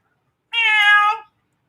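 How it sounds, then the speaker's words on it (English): A single drawn-out meow from a cat in Florida, clear and fairly loud, lasting under a second with a steady, tonal, slightly nasal quality against silence, with no talking around it. "there's a cat in Florida that sounds like Owen Wilson"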